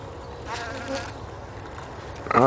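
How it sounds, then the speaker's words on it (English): Bees of different sizes buzz around Trichocereus terscheckii cactus flowers nearby, the drone rising and fading as they fly in and out, growing louder and closer near the end. "Got a bee. There we go. A couple bees,"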